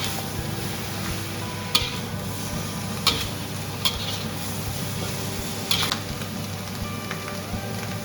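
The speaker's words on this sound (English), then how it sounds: "put in the pumpkin and keep stirring for about 5 minutes" Pumpkin stirred in a pan, with a steady frying hiss broken by occasional sharp clicks of a utensil against the pan, close and continuous, no voices.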